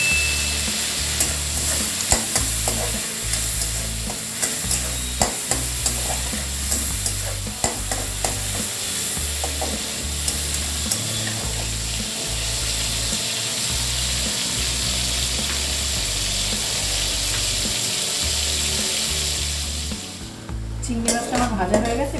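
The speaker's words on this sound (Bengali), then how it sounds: "চিংড়ি মাছটা আমার ভাজা হয়ে গেছে, এবার আমি তুলে নিচ্ছি" Prawns seasoned with salt and turmeric fry in a pan, sizzling steadily and close up for a long stretch, with repeated scrapes and clinks as they are stirred.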